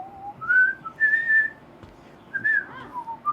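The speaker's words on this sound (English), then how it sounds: "Whistling." A person whistles a short, wavering melody alone, several clear sliding notes separated by brief gaps, close and fairly soft.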